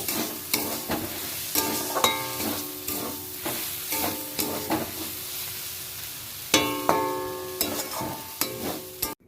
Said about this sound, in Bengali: শাকটা আমার ভাজা হয়ে এসছে, এবার আমি একটা প্লেটে তুলে নেব।